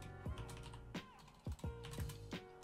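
Computer keyboard typing, a quiet series of separate key clicks at an irregular pace, heard close up with no talking.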